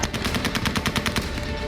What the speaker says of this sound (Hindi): ये तस्वीर देखिए, एयरपोर्ट पर अमेरिकी सैनिक फायरिंग करते दिख रहे हैं।